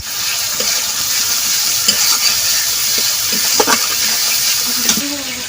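Spices with salt and turmeric stir-fried in a pan for a village-style radish bhuna, a loud continuous sizzle filling the background while a spatula scrapes in scattered strokes close by.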